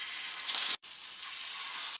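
Marinated fish fries in hot oil in a pan, a loud, steady close sizzle with two brief cuts in the sound.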